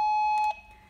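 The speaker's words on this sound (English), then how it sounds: "if you look at the machine, you will see an open hold alarm" The open hold alarm on a Shalya VesSeal surgical diathermy unit sounds as a single clear, steady electronic beep lasting about half a second, followed by near silence.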